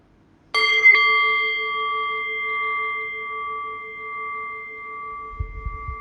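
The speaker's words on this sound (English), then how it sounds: "I'll ring the bell and I'll guide us in." A meditation bell is struck, with a second quick strike just after, leaving a clear ringing tone that sustains and slowly fades over several seconds, with a faint low rumble near the end.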